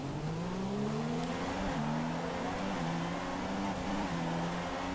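A Formula 1 car's engine in a racing video game at the Belgian Grand Prix start, a steady loud whine rising and shifting pitch through gear changes, blended with other cars' engine noise from the grid.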